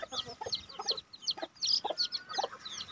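Native Thai chickens cluck at a small farm, close and fairly quiet, in a quick irregular run of short clucks and squawks with brief pauses between bursts.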